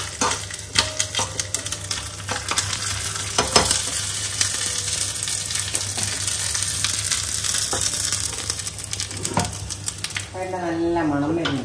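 Grated coconut frying in coconut oil after mustard seeds have spluttered, for a Kerala kaya and parippu erissery; a steady close sizzle with sharp crackles and clinks of a stirring spoon, and a brief voice near the end.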